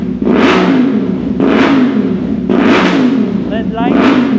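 Revving of a 2024 CF Moto NK450 449.5cc parallel-twin motorcycle with its resonator removed and an SC-Project exhaust, three loud rising revs and drops close by, with a crunchy note.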